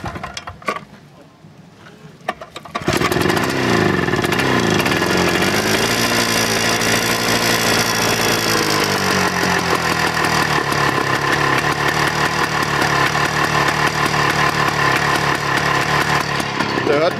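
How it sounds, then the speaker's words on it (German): A 1957 IRUS U54/II single-axle tractor with a two-stroke engine is cranked and catches after a few seconds of quiet fiddling, then runs loud and steady with a buzzing, scooter-like idle that rises and settles. "Hört man 2 Takter schon raus."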